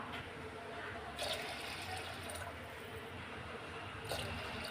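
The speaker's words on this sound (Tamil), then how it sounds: "இப்போ நான் மூன்று கிளாஸ் அளவு தண்ணி சேர்த்துருக்கேங்க" Water poured into rice in a pressure cooker while making fenugreek porridge, a steady watery rush running throughout with a couple of brief louder splashes.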